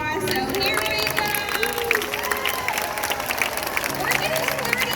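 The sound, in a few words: audience round of applause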